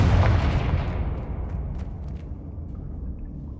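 Confringo, an explosive spell in the Hogwarts Legacy video game, bursts in a single loud, close blast whose booming rumble fades slowly over a few seconds.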